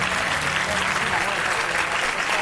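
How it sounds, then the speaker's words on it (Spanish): Applause from a studio audience on a televised talent show, a dense and steady clapping that stays loud and even throughout, with faint voices mixed in. "Un aplauso para él"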